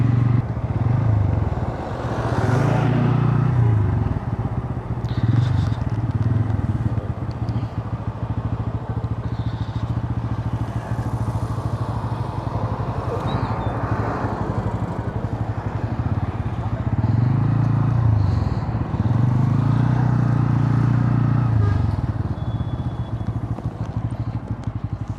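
A motorcycle on a tour from Gazipur to Bandarban runs steadily along a road, its engine droning loud and close with periodic swells of revving and rumble, brief speech faintly beneath.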